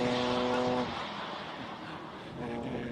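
Classic race cars hold a steady, loud engine drone at a hill climb start line. A rev eases off partway through and builds again, with a voice talking over the noise.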